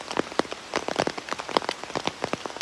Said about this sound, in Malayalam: നിർത്താതെ പെയ്യുന്ന മഴയാണ്.